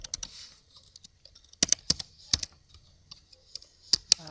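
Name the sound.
computer keyboard typing while entering matrix commands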